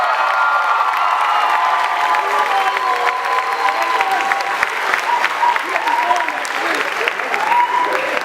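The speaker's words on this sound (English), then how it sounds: "Give our graduates a round of applause" Sustained, dense applause from a large commencement audience honoring graduates, steady and loud throughout, with scattered cheers and whoops rising from the crowd.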